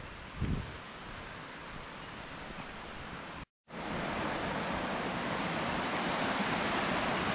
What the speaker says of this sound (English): It's a cool little waterfall there.